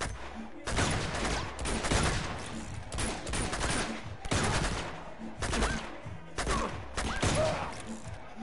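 Gunfire from Uncharted: Among Thieves, loud and sustained in repeated bursts of rapid shots with short pauses between volleys, some faint voices mixed in.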